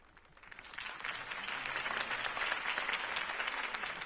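In the Batman Telltale video game, a crowd applauds after a mayoral campaign speech, the clapping swelling from quieter to full over the first second, then holding as a dense, sustained roar of many hands.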